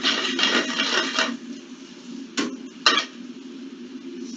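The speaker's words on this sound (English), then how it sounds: "All those onions and peppers cooking." Onions and peppers cook in a restaurant kitchen, a steady low sizzle under scraping and rubbing at first, then two sharp metallic utensil clanks over the continuing hiss.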